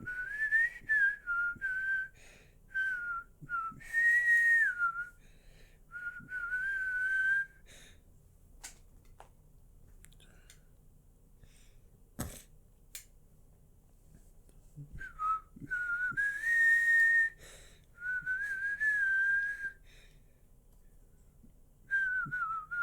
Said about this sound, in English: My whistling's a little off.